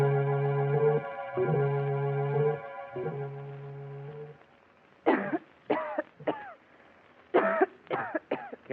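A woman coughs in an old radio drama, several harsh close coughs in uneven bursts following a sustained musical passage.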